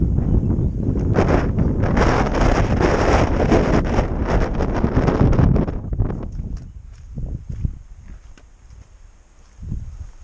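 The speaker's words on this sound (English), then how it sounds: "it is a little bit windy and it is chilly out here" Strong gusty wind on an Appalachian Trail mountain ridge roars and buffets the microphone for several seconds, then drops away to quieter intermittent gusts and rustling.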